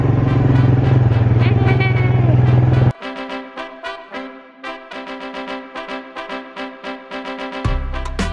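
ATV engine revving and accelerating near the rider, a steady loud drone for the first three seconds, then a choppier, pulsing engine note with uneven surges, rising again near the end.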